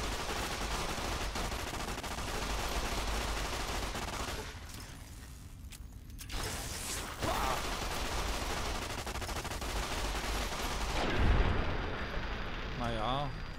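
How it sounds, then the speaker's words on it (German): Rapid-firing weapon in a video game, a fast, continuous rattle of shots that runs through most of the stretch with a couple of brief pauses, dense and loud, mixed with game noise and some speech. "Die kann doch ganz schön schnell schießen."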